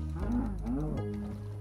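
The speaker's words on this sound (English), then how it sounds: "Okay, cow. Come here." Cow mooing in a survival video game, one close, low, drawn-out moo lasting about a second over a steady background hum.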